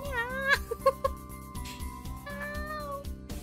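A voice in a visual novel imitates a cat's meow with bright, sliding tonal cries over a steady looping music backdrop, several short meows followed by a longer drawn-out one.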